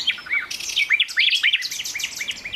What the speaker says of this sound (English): the loudest nightingales can sing at nearly 100 decibels